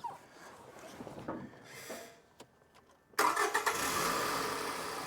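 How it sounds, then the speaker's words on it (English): Toyota Camry engine cranking and catching, with a few quiet clicks and shuffles before the engine suddenly fires and settles into a loud, steady idle close by. "Start the engine."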